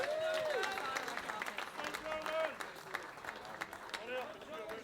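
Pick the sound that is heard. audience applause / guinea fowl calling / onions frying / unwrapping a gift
audience applause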